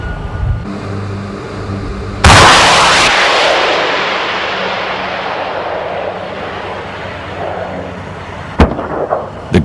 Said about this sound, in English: At the approach of the towed sleeve, the gunner acquires the target and prepares to fire.